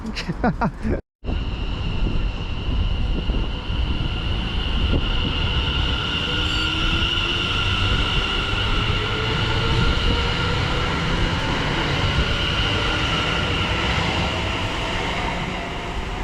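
A Greater Anglia passenger train from Cambridge to London Liverpool Street rumbles steadily past at close range, with a sustained roar and faint wheel squeal, after a brief dropout at the start.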